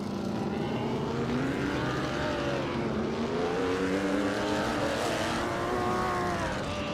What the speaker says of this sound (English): driving the 1938 Maserati 8CTF